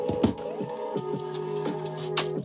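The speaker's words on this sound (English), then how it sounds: "Come on, printer." A small label printer runs, giving a series of short whirring feed strokes and clicks in an uneven rhythm, close and moderately loud, with no one speaking.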